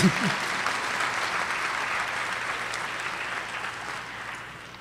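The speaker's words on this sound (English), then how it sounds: "give her a round of applause anyway" An audience applauds at a fall honors ceremony, giving a steady, even wash of clapping from a crowded hall that holds for several seconds and then slowly fades toward the end.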